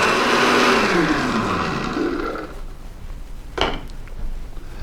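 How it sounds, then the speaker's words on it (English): A blender whirs loudly through almond butter, frozen banana and smoothie ingredients, the motor pitch sliding down as it spins down and stops, followed by a few faint clinks. "And give it a blend."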